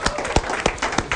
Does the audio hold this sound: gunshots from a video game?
no